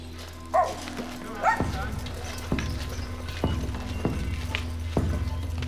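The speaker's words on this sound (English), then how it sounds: "We're being attacked by dogs already." Dogs bark in short, sharp bursts at moderate distance during a warm, quiet Sunday walk along a road, several separate yaps spaced irregularly over a low steady hum, with people nearby.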